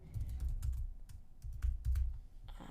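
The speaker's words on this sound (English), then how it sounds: "You'll also need to type in the class title." Typing on a computer keyboard while a course title is entered, heard as quick bursts of close, clattering key presses with short pauses between groups, no talking.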